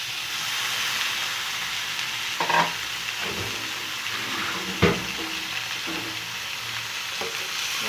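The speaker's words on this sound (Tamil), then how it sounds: "இப்போ வெட்டி வச்சிருக்கிற சிக்கனை சேர்ப்போம்." Chopped chicken frying with sautéed onions in a pan for pallipalayam chicken varuval, a steady close sizzle with occasional stirring clatters and scrapes, no talking.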